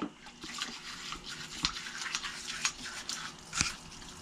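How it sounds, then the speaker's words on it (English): Tap water runs steadily into a sink while a transmission accumulator piston from a 4T65E is rinsed, a soft continuous wash with a few brief louder splashes and clinks. "rinse it in the sink, and away we go"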